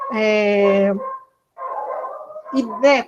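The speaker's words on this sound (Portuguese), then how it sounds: "meus cachorros começaram" Several dogs bark and yelp nearby in two loud bursts separated by a brief silence, with whining, howl-like cries mixed in.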